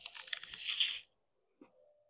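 A single crunchy bite into a fresh Evercrisp apple picked straight off the tree, a loud crisp tearing crunch lasting about a second, then a short pause and faint soft chewing.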